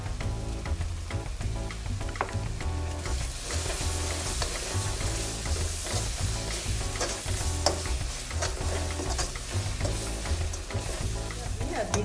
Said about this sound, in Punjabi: ਹੁਣ ਚੰਗੀ ਤਰ੍ਹਾਂ ਮਸਾਲੇ ਨੂੰ ਪਕਾਵਾਂਗੇ।